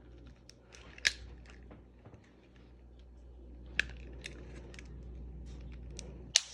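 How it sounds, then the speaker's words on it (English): Plastic Kia/Hyundai flip key case being pried apart, a few sharp close cracks and snaps over faint scraping and handling noise, quiet between the breaks. "Just keep prying it off until it breaks off like that"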